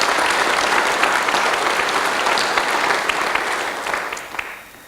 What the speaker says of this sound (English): So a warm round of applause for our sponsors.